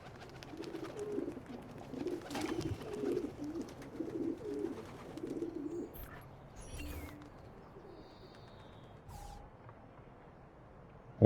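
Pigeons coo repeatedly at a pigeon coop in Assassin's Creed II, soft low burbling calls in a steady rhythm over faint ambient game noise, then fading.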